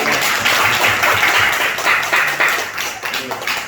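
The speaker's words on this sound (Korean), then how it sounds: "우리 성모님 처음 오셨는데 우리 환영의 박수 하겠습니다" A church congregation claps during a Sunday worship service to welcome a first-time visitor: a dense, close burst of many hands clapping at once, continuous for several seconds with a faint voice underneath.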